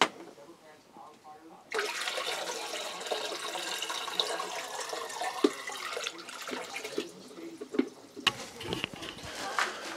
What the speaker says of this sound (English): So I'm just gonna fill it with a little bit of room left.